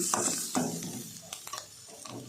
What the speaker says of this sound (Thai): เติมกะทิลงไปนิดนึงนะคะ จะผัดให้หอมเหมือนเดิม